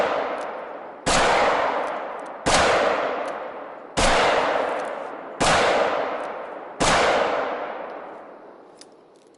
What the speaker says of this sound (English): So let me reload this pistol, get a few more pistol kills.